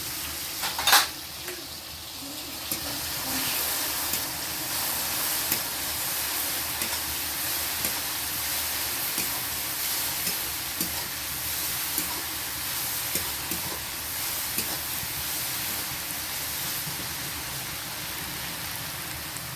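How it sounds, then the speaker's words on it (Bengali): Ground garlic landing on tomatoes in a hot pan, a soft steady sizzle with a sharp clink near the start and light stirring scrapes throughout. "আমি টমেটোর উপরে বেটে রাখা রসুনটা দিয়ে দিচ্ছি।"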